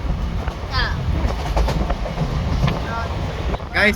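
A passenger train runs steadily, heard from inside the carriage as a continuous rumbling rattle with rhythmic clicking, while people talk nearby over it.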